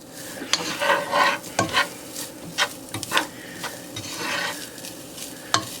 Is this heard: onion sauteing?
yes